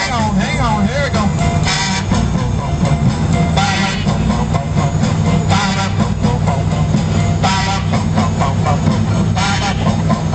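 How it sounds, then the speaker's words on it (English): Tourists on an amphibious duck tour blow plastic duck-call quackers together, a loud dense chorus of honking quacks over engine rumble and a lively crowd. "We're going to test our quackers."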